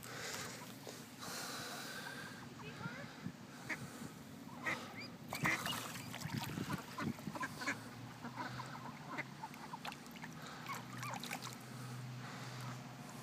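A duck rescued from a hawk quacks repeatedly in irregular bursts up close, the calls growing busier in the middle, over a background of handling noise and rustling.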